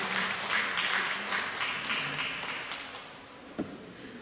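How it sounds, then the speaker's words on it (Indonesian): An audience at a parish Catholic women's association conference opening gives another round of applause, a steady, fairly distant wash of clapping that fades slightly, with a single sharp knock near the end. "Mari kita beri tepuk tangan sekali lagi."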